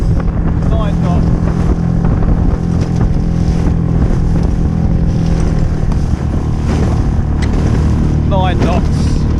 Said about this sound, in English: So we are doing head on into the waves at the moment.